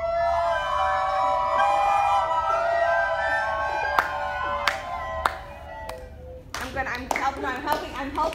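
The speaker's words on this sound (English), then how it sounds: "I'm clapping so you can guys can keep the steady rhythm." Hands clap a steady, slow rhythm of sharp separate claps near the end, following a sustained tone and a few isolated claps, with voices present.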